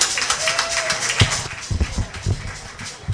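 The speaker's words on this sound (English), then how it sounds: "Give a round of applause again for Raquel" An audience applauds a singer at a local idol talent show, with uneven, scattered claps and taps over a lively room of voices, fairly close and moderately loud.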